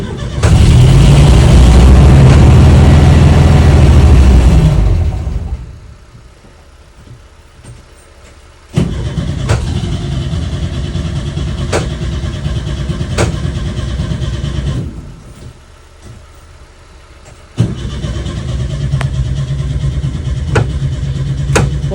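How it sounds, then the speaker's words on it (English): A car engine known as Rusty, fresh from an engine swap, roars loudly in a sustained rev, drops to a low idle, then surges up in two more long revs close by. "You need to rev my car, really."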